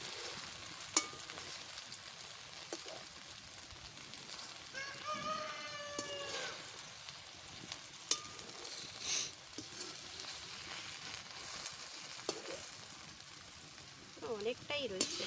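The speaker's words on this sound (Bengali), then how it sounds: "ডিমটাও প্রায় ভাজা হতে যাচ্ছে হালকা জালে।" An egg frying on low heat, a gentle steady sizzle with faint scraping and occasional taps, while a person talks intermittently nearby.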